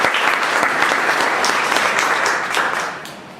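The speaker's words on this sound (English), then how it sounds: "So please give Mahavir a big round of applause." Audience applause for Mahavir, the club president, at a meeting: a dense, steady wash of many hands clapping, loud throughout and thinning slightly near the end.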